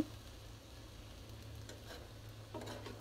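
Chili, onion and garlic fry for a shutki vorta, giving a faint, steady sizzle with soft scattered stirring clicks and no talking.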